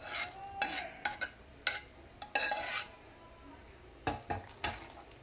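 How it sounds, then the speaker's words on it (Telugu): A spoon clinks and scrapes in a metal pot as boiled vegetable pieces are stirred into tamarind and dal sambar, a handful of short, sharp strokes in bursts separated by quiet pauses. "ఇప్పుడు స్టవ్ ఆఫ్ చేసుకొని ఈ ముక్కల్ని మనం చింతపండు పులుసు, పప్పు ఉన్న సాంబార్ దాంట్లో కలుపుకోవాలి"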